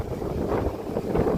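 Strong gusting wind roars loudly across the microphone outdoors, a dense continuous rumble with no talking.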